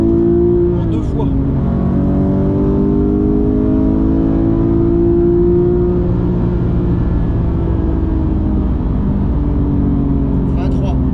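A Porsche GT3 Touring with a manual gearbox accelerates hard, its engine a loud, close, tonal drone heard from inside the car that climbs briefly and then holds, with people talking over it.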